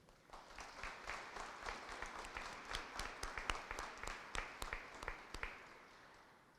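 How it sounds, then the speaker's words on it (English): Audience applause for distinguished visitors at a military change of command ceremony for a brigade support battalion, steady distant clapping from a crowd lasting several seconds with no speech. "Please join me in a round of applause for all our distinguished visitors."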